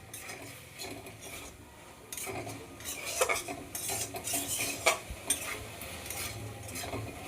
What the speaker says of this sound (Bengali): সেই ঝুড়ো ঝুড়ো চিকেনটাকে এখন এই মশলার সাথে ভালো করে কষিয়ে নিতে হবে।